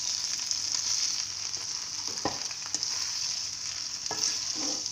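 Macaroni and vegetables are stirred as they fry in a pan, giving a steady close sizzle broken by occasional scraping knocks of the stirring utensil, with no voices.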